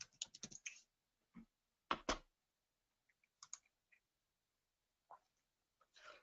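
Scattered clicks from a computer keyboard come in quick bursts of keystrokes separated by pauses, close and fairly quiet, with no talking.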